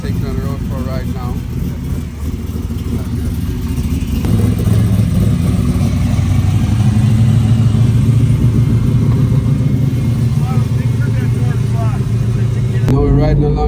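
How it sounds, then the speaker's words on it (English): A 1970 Chevrolet Chevelle LS6 rumbles along the road, its low engine drone swelling and holding steady beneath people talking. "We're going to take it on the road for a ride now."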